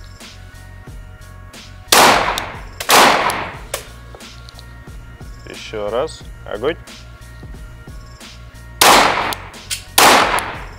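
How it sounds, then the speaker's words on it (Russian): Pistol shots ring out during a practical shooting training session at a range, two sharp loud pairs of reports separated by spoken instructions from an instructor, each blast followed by a brief echoing decay. "Мы договорились, два выстрела."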